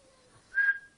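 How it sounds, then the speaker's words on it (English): An African grey parrot gives a single clear whistled note, a steady tone lasting about a quarter second, close and moderately loud against a quiet room. "Whistling."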